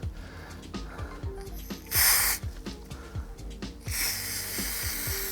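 Short hisses of spray from a spray gun sound twice over a steady mechanical ticking, like a compressor pulsing in the background.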